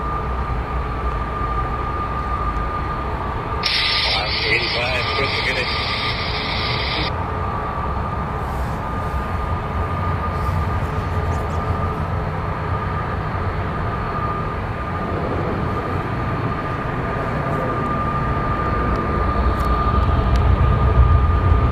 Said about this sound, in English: There it is, the Delta ERJ